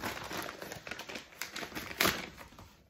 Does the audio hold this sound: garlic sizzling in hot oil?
no